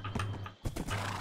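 Horse hoofbeats from riding in the video game RLCraft, a few quick clip-clop thuds over a short stretch, with a brief dropout in the middle.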